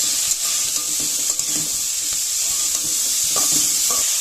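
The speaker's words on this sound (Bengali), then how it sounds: "এবার আমি এটা একসঙ্গে ভাজা করে নেব কিছুক্ষণের জন্য" Cauliflower with salt and turmeric fries in a pan, a steady close sizzle broken by repeated scrapes and knocks of a spoon stirring it.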